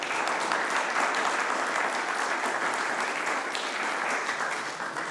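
Sustained applause from a crowd at a civic ceremony installing a citizens' assembly in Évry-Courcouronnes, a dense, even roar of clapping that holds steady and eases slightly at the end.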